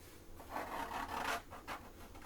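A plastic card scrapes paint off a watercolour painting of a moonlit lighthouse seascape, a few soft rasping strokes on paper, close and fairly quiet, with no speech.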